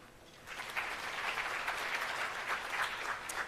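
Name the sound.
audience applause at 4IR centres launch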